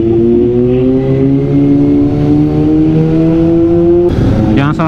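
A vehicle engine fitted with a JTX aftermarket exhaust revs in a smooth, steady drone that climbs gently, then lets off near the end with a brief burst of broadband noise, loud and close throughout.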